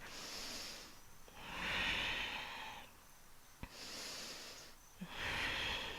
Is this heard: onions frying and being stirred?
no